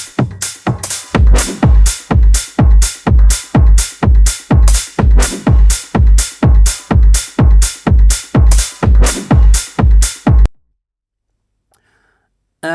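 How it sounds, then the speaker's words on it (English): A techno track pounds out a steady four-on-the-floor kick with bright percussive hits, loud and driving, then cuts off abruptly into silence. "This is techno and it sounds like this."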